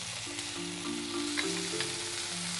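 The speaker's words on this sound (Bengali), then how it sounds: "এটা একটু মশলাটা ভাজা ভাজা হোক" A spice paste with garlic and tomato sizzles in oil in a kitchen pan. The frying hiss is steady and close, broken by faint stirring scrapes, and a soft tonal hum sits underneath.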